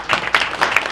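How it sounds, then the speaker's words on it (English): An audience at a hip-hop roundtable discussion applauds, with bursts of clapping swelling and fading in quick waves, fairly close and without talk. "clap, please applaud"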